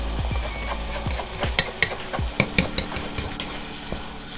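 A utensil stirs a soy sauce and water mixture in a pan for chicken in black bean sauce, giving close, repeated scraping and clinking strokes over a faint sizzling background.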